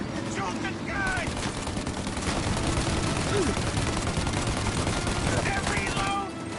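Sustained machine-gun fire in a shootout in the video game Mafia, fast rattling bursts close by with steady rhythm throughout, while characters' voices shout over the din.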